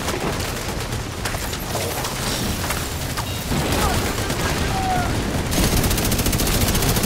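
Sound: machine gun fire in Division 2 video game

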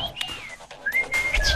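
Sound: person whistling imitating a bird for radio effect

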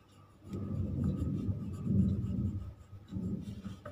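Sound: pencil writing on paper

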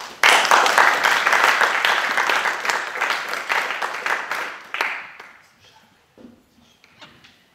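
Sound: audience applause for Aurora Ribeiro

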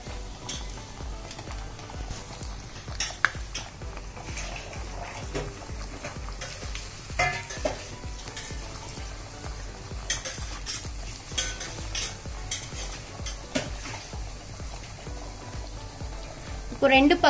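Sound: taco shells frying in oil

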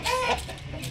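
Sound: aggressive Aseel rooster

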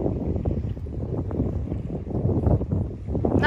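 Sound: breezy wind on the water

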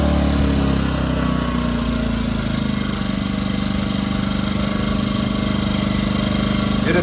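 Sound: portable generator running in eco mode

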